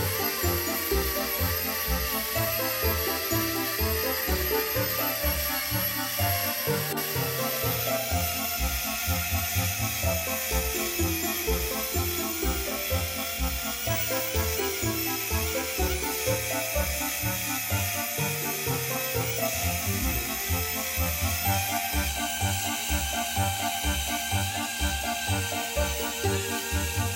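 A Gemini Taurus 3 ring saw cuts through granite with a steady, hissing grind that carries a fast repeating pulse and stays constant throughout.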